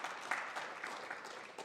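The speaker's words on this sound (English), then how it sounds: "would you give a round of applause for these 2 people" A crowd applauds Robert and Janet Groden at an event in Olney, Illinois, with steady, dense clapping that fills the whole short stretch at moderate loudness.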